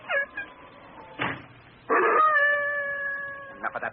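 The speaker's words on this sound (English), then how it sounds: "Chicken-hearted old hound." An old hound dog howls as a radio drama sound effect: a few short yelps, then one long, wavering, drawn-out howl, loud and close, with a few further short cries at the end.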